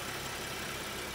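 A 2013 BMW 335i xDrive twin turbo engine idling with the hood open, a steady, even hum heard close with no talking over it.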